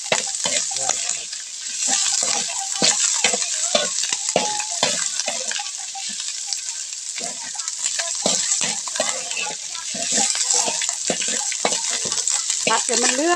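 Duck meat stir-fried in a hot pan for a Thai Isan duck larb dish, continuous crackling sizzle with frequent scraping and clacking strokes of a spatula in a steady rhythm, close and fairly loud throughout.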